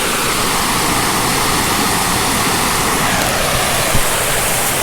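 Fall Creek Falls, a waterfall in Upstate South Carolina, rushes in a loud, steady, dense roar that fills the whole clip without pause.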